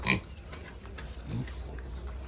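Piglets for sale at a livestock market grunt in short bursts near the listener, with a louder squeal at the start and a second grunt cluster partway through over steady background noise.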